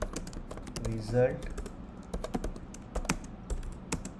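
Code is typed on a computer keyboard in quick, irregular bursts of close clicky keystrokes, with a short spoken word partway through.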